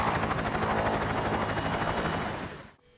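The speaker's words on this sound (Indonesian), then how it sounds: "melainkan sebuah helikopter militer" A military helicopter roars loud and steady with dense rotor chop and engine whine, then cuts off abruptly near the end.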